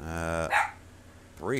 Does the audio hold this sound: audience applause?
no